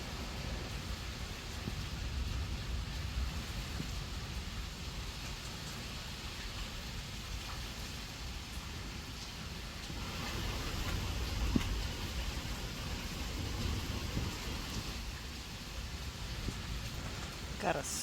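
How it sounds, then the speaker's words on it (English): Steady rain falls outside during a storm, a continuous broad hiss with a soft surge midway, close and fairly loud throughout; no thunder stands out. "Got a storm a brewing."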